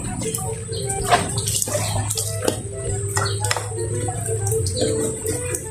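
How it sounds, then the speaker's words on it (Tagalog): Dishes being washed under running tap water, a close steady splash with clatter and knocks of plates throughout. "Maghugas ng plato."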